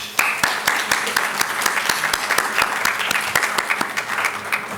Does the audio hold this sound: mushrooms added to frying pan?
no